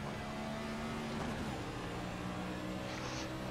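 A NASCAR next-gen race car engine in a racing video game at Las Vegas, a continuous steady engine drone holding a constant tone, fairly quiet and without speech.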